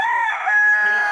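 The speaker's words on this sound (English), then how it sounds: "We also ran into these locals who had these chickens with 1 foot tied to the string." A rooster crows loud and close in one sustained call among chickens held by locals on the Islas del Rosario near Cartagena, Colombia.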